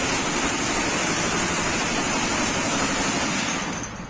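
A pickup-mounted ZPU-1 12.7mm anti-aircraft gun fires in a dense, continuous roar of rapid shots that thins out at the end.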